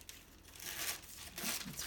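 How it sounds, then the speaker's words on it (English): Sheet of wax paper crinkled and handled for lining a cake pan, a steady close crackle and rustle with brief louder swells, no voices. "I love to use wax paper."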